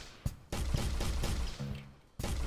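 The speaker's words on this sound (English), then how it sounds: "And you can shoot the boxes." Rapid gunfire in an Unreal Engine 4 template game, a dense fusillade of loud shots with a brief lull before firing resumes.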